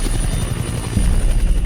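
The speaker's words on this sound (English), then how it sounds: "Wolverine's flying inside a helicopter with the other members of Team X." Helicopter in the X-Men Origins: Wolverine video game, carrying a team inside, a loud close rotor thump and engine whine running continuously with a stronger surge near the end.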